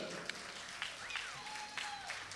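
Crowd applause at the Tava Rock 2012 rock concert, a steady wash of clapping and cheering with a few whistles, continuous across the moment at moderate distance.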